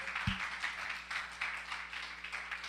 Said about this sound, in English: Let's give a round of applause for Nidus and his message